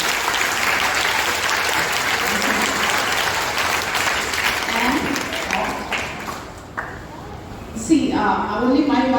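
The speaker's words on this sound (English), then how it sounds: "so give him a big round of applause" Audience applause at a memory workshop, a full steady clatter of many hands that thins and fades toward the end as a voice begins speaking over the last moments.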